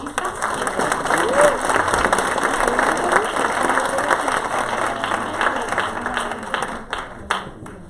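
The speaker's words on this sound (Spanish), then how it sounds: "les pido por favor un aplauso para los panelistas." An audience applauds panelists at a university panel discussion, steady sustained clapping from a room full of people for the whole stretch, with a voice faintly under it.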